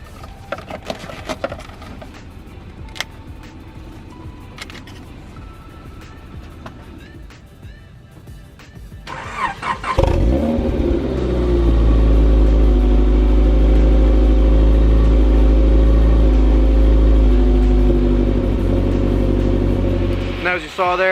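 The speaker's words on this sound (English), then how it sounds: "Let's start the car up." A Honda Prelude BB6 race car with a suspected motor mount problem, heard first as a quiet garage with talk and small clicks, then the engine catching and settling into a loud, steady, deep idle that drones on close by.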